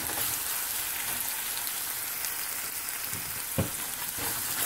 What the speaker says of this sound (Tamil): நல்லா இப்போ இந்த இஞ்சி பூண்டு பேஸ்டோட அந்த பச்சை வாசம் போகும் வரைக்கும் கொஞ்சம் வறுத்துக்குவோம்.